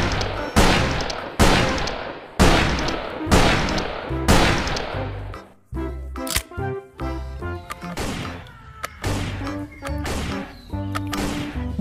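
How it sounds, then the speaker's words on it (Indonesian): Classic shotgun fire in a video game, a series of heavy booming blasts with ringing decays, first evenly spaced then followed by scattered metallic shots and clatter, loud and close. "Ada klasik shotgun."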